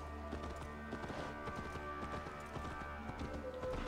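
Horse hooves galloping in the video game Assassin's Creed Valhalla, a fast continuous clip-clop rhythm over a constant game music and ambient bed, fairly quiet and steady throughout.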